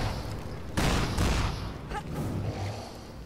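Gunfire rings out in the co-op video game Lara Croft and the Temple of Osiris: a sudden burst of shots and impacts over steady game ambience, with players talking.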